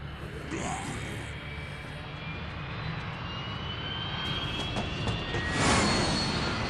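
Aircraft engine drone in the video game Earth Defense Force 6, a steady broadband roar that swells slightly toward the end, heard alone without voices.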